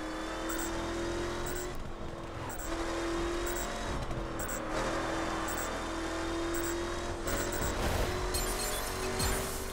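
Car in the racing video game The Crew driving off-road, engine humming steadily with shifting revs and gravelly tire noise throughout, no clear gaps.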